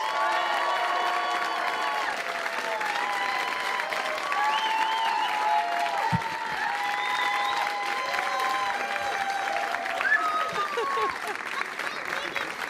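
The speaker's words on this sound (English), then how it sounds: "Give them a big round of applause." A live audience applauds and cheers as three game-show contestants are welcomed to the stage, steady clapping throughout with whoops, shouts and bright tonal sounds layered over it.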